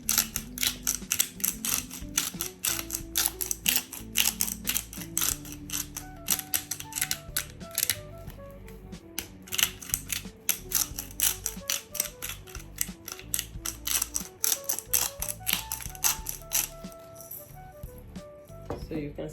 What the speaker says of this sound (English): Now these are the black pepper I will be using. So right now I'm just going to grind